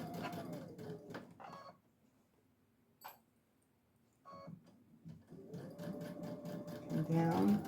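A sewing machine stitches a quarter-inch seam on a Fourth of July placemat in short close bursts of rapid whirring, pausing in between while someone talks over and between the runs.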